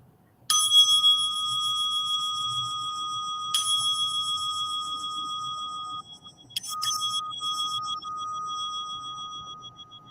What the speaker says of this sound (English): listen for 3 chimes